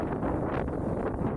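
Wind blows outdoors in a village by a river, a steady, fairly loud rush with low buffeting on the microphone and no voices.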